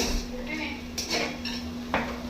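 Pots and metal utensils clank and scrape during home cooking of chicken, with a few sharp close clinks over a steady background hum.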